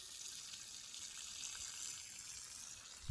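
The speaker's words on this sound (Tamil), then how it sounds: "தண்ணி பாஞ்சிட்டு இருக்குது பாருங்கள்." Water flows through a drip irrigation line watering young coconut saplings on a farm near Gobichettipalayam, Erode, a faint, steady, even hiss of running water with no one talking.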